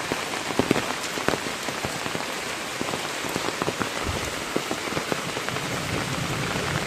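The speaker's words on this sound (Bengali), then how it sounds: "এখনও বৃষ্টি হচ্ছে আর এই বৃষ্টি যে ছাড়বে সেই লক্ষণটা দেখা যাচ্ছে না" Morning rain falls steadily onto surfaces, a dense close patter of drops with no voices.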